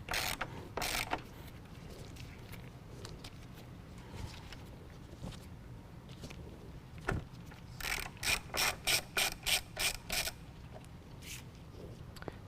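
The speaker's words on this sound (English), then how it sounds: "we're going to remove two 10mm bolts at the top of our headlight" Hand ratchet loosening 10mm bolts at the top of a car headlight, scattered clicks followed by a quick close run of about seven ratcheting strokes.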